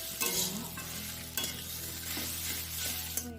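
Spiced vegetables with turmeric and chili powder fry in a pan and get stirred, a soft continuous sizzle broken by several scraping strokes of the spoon, close and moderately quiet, with no talking.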